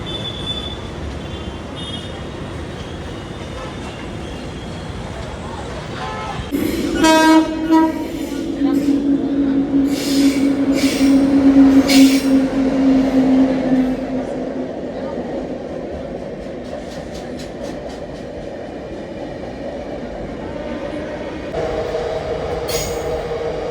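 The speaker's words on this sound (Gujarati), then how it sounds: "મિત્રો હું અત્યારે પહોંચી ગયો છું સુરત રેલવે સ્ટેશને." A train at Surat railway station in India rumbles and rolls past with steady rail noise, a sustained tonal squeal or horn-like whine rising midway, then settles into a quieter station hum.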